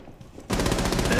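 Sudden burst of rapid automatic gunfire in Rainbow Six Siege, shooting through a wall, erupting loud and continuous after a quieter lead-in with no talk.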